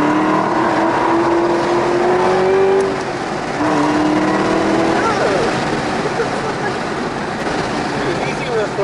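Chevrolet Camaro ZL1 1LE V8 engine roars under throttle from inside the cabin, pitch climbing through a gear, dipping briefly at a shift, then building again, loud and close while occupants talk over it.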